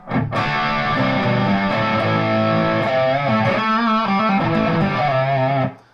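A heavy, distorted electric guitar plays sustained, thick chords up close, loud and continuous before cutting off at the end.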